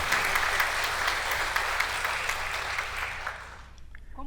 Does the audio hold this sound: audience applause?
yes